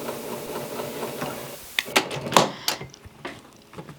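A Baby Lock Accomplish sewing machine stitches in a few quick mechanical bursts after a quieter hum, with clicking needle strokes close by and no talk.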